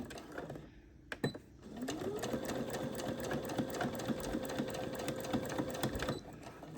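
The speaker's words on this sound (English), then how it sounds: "And now I'm going to start sewing." A home sewing machine stitches a seam with a steady, fast mechanical whir and rapid needle ticking, running continuously for several seconds close up before stopping, with a couple of clicks at the start.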